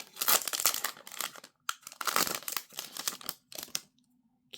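A crinkly foil pack of 2023 Prizm baseball trading cards torn open by hand, giving loud, close bursts of crackling and ripping in uneven waves, then a short quiet pause.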